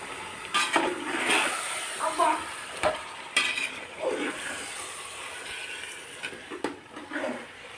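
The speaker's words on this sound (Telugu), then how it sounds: "ముక్కలు బాగా మసాలాలు పట్టేంత వరకు 10 నిమిషాలు వేగనివ్వాలి." Chicken with spices and two bay leaves frying in oil for biryani, with close stirring scrapes against the pot in irregular bursts over a soft continuous sizzle, and no talk.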